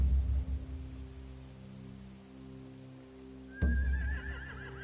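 Horses neigh at a stable, a whinny rising loud and close near the end after a quieter stretch of low background noise.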